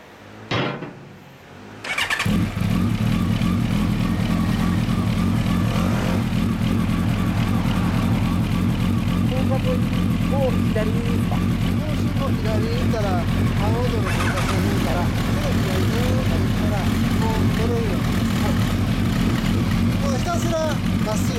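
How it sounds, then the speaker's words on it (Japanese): A Kawasaki ZRX1200R motorcycle fitted with a Beat Special exhaust muffler starts up and settles into a loud, steady, throbbing idle, heard up close with some voices talking nearby. "じゃ、どうぞ、このエンジンかけてもらって、結構ですよ。"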